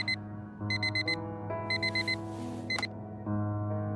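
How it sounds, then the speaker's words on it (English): A repeating alarm tone from the video game Fragments of Him, clear electronic beeps in quick clusters over a sustained low hum, with the pattern restarting several times. "The same alarm tone that Harry can sleep through."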